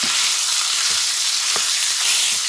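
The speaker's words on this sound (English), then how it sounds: "what you're going to do now is start cooking this meat" Ground meat sizzles steadily in a hot pan, a continuous close hiss with a few soft stirring knocks and no voices.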